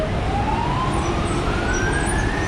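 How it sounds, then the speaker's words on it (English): An ambulance siren wails loud and close on a busy street in Macau, a steady rising tone over constant traffic rumble. "Let's see if these people can get out of the way for the ambulance."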